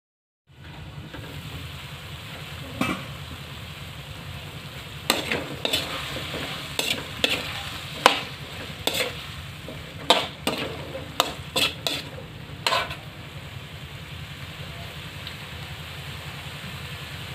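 Mixed vegetables for a saucy chopsuey, with young corn, are stirred in a hot pan, a low sizzle under a run of sharp spatula scrapes and knocks in the middle stretch.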